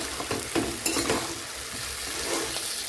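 Country chicken curry with potatoes being stirred and sautéed in a pan: steady frying sizzle with a few louder scraping stirs near the start, continuous and close with no talking.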